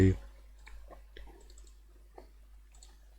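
Mouse clicks on a PC while copying and pasting: a handful of sharp, sparse clicks spaced irregularly over quiet background, close and fairly soft, with a short thump at the start.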